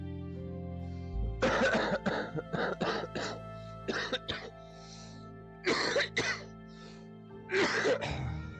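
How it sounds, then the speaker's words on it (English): A sick person coughs repeatedly in harsh, rough bursts, several clustered fits with short pauses between, loud and close over a low hum. "I apologize about the coughing, you guys."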